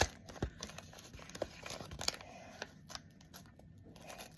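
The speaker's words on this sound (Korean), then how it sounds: "위에만 한번 뜯어볼게요" A package top is torn open by hand, with sharp rips and crinkly snips of packaging coming through in quick bursts, close and fairly quiet.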